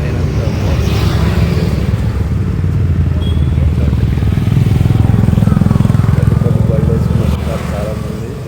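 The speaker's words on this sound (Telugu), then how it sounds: "మోటార్ సైకిల్ వేసుకుని పిల్లలు అందరూ వస్తున్నారు చూడండి" Several motorcycle engines rumble steadily as riders arrive in crowds on the misty hilltop at Nandi Hills near Bangalore, the drone swelling slightly midway, with a voice talking over the engine noise.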